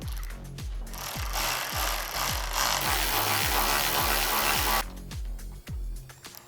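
Power tool tightening bed rack bolts on a Honda Pioneer 1000-6, heard as a rapid series of close, rhythmic thuds and impacts under a harsh rattling whir that stops after several seconds, leaving a few scattered knocks.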